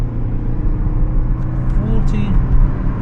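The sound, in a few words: car accelerating to 45 miles an hour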